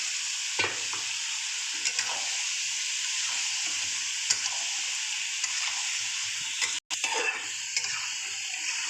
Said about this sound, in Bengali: মশলার তেল ভেসে উঠেছে এবার আমি চিকেনগুলো দিয়ে দেবো